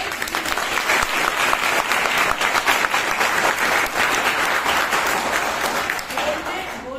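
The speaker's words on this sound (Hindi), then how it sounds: "मैं आपकी बहुत जबरदस्त ताली चाहूंगी।" Audience applause at a college health camp, loud sustained clapping from a large crowd lasting several seconds before tapering off near the end.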